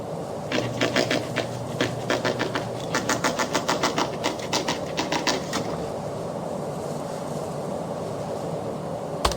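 Printing presses run in The Longest Journey video game, a fast, rhythmic mechanical clatter of repeated clacks for about five seconds that then settles into a steady low machine hum.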